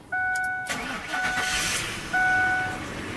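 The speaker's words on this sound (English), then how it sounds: "Okay, right now car is running." A 2004 Ford Expedition engine cranks and catches, starting with a loud whir, then settles into a steady idle with a brief second revving burst.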